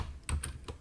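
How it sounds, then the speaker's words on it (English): Computer keyboard typing: a few quick, close key clicks in an irregular rhythm over a faint background hum, with no talk. "apologies for my horrible typing"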